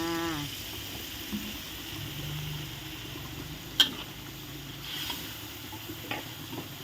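Chicken curry with pickled bamboo shoots being stirred in a pot after boxed coconut milk is poured in, a soft, steady wet swishing and sizzle with a few sharp scrapes and clinks of the utensil against the pot.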